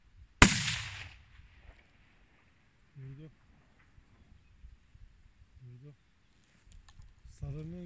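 A single .308 Winchester rifle shot from a Monza rifle at a target 725 metres away: one sharp, loud crack with a brief decaying tail, followed by quiet and a few short bursts of people talking.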